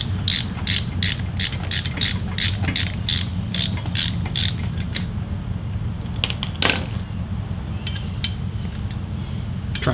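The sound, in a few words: removing brake pad pin on Harley with ABS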